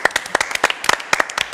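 Studio audience applause for Jessica on the French TV set Sunset, a short burst of separate, fairly close handclaps with an uneven rhythm.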